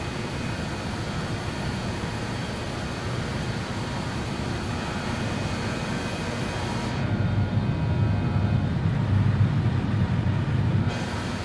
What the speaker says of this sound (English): This airplane is really loud though.